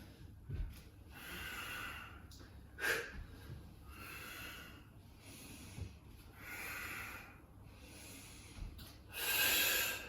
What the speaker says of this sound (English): Again, strong breath out.